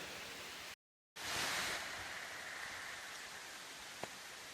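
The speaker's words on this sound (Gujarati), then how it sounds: "દાદા વરસાદ આવી ગયો." Rain falls on an open village field, a steady hiss of light to moderate rainfall with a brief dropout early on and a single faint tap near the end, no voices.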